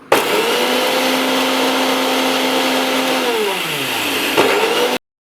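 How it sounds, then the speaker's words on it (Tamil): A kitchen mixer grinder whirs loudly and steadily as it blends oil into mayonnaise, its motor pitch sliding down near the end before cutting off abruptly. "மிக்சியை வச்சு அரைக்கணும்."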